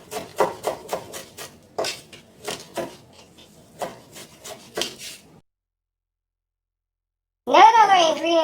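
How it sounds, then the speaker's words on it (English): Guacamole with chopped fresh cilantro and parsley being stirred and mixed in a bowl: a run of scraping, rubbing strokes in uneven rhythm, then a pause and a burst of speech. "stir in our guacamole. We're just going to keep mixing it in"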